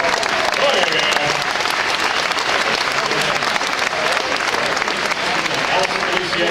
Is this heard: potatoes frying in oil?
no